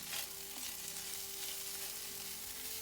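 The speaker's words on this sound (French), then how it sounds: "Remettez les morceaux dans le wok et remuez jusqu'à absorption uniforme de la sauce." Chicken pieces in sauce sizzle in a wok as they are stirred, giving a steady, close hiss with faint scraping throughout.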